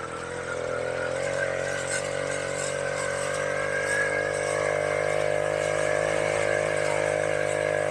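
A 1968 Clark Scamp 49cc two-stroke moped climbs a long hill, its small engine holding a steady, buzzing drone close to the rider that rises slightly in pitch and loudness.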